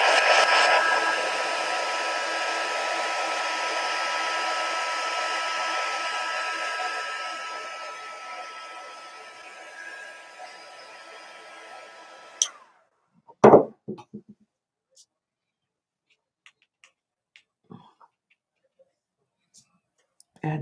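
A hair dryer blows steadily on wet watercolor paint, a loud whirring hum that slowly fades before cutting off, followed by a few sharp clicks and quiet handling sounds.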